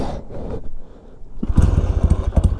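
A barn-find Triumph T140 motorcycle given a light kick-start: a quiet mechanical shuffle first, then the engine catches and sputters into a loud, uneven, close-up idle with sharp popping pulses.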